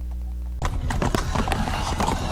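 A horse's hooves clip-clop on a hard surface in a dramatic TV scene, with irregular, fairly close hoofbeats that start abruptly after a low hum and continue in an uneven rhythm.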